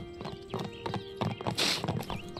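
A horse in The Sims 4 Horse Ranch gallops with quick, bouncy clip-clop hoofbeats and lets out a brief whinny partway through, fairly close and moderately loud.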